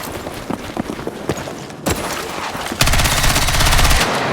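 Battlefield 6 multiplayer gunfire: scattered shots at first, then a sustained rapid automatic burst with loud, dense firing toward the end, no voices.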